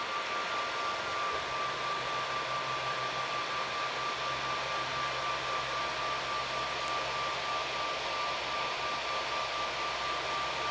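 A 3D printer runs steadily while laying down its skirt, giving off a continuous airy fan whir with a faint steady tone and no breaks.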